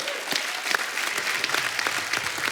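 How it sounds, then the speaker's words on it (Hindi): Studio audience applause on a Hindi television comedy show, a dense steady wash of clapping lasting the whole stretch at moderate loudness with no voices over it. "तालियां बहुत हैं।"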